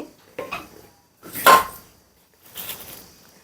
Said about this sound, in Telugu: ఇప్పుడే దీన్ని కుక్కర్లో వేసుకుందాం